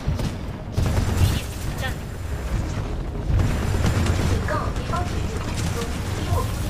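A titan's nuclear ejection explosion in the video game Titanfall 2 booms out in heavy bursts amid ongoing gunfire and battle noise, with a player talking excitedly over the chaos.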